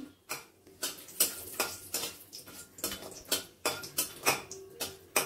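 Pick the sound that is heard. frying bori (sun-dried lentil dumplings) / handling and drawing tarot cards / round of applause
frying bori (sun-dried lentil dumplings)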